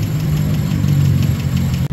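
A Honda K20 car engine runs steadily up close with an abnormal knocking noise, a continuous low mechanical hum with faint rhythmic ticking, briefly cutting out near the end.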